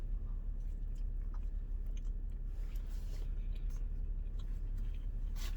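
Someone eating a Wendy's breakfast chicken biscuit, with soft close chewing and biting sounds over a steady low background hum, no talk during the bites.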